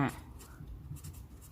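A pen scratches across paper in a short, quiet burst of soft strokes, heard close and faint after a brief voice at the start.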